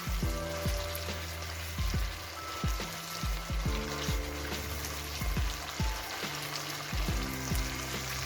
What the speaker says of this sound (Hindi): चॉप अदरक और चॉप लहसुन डालूंगी और इसे अच्छा सा भूनूंगी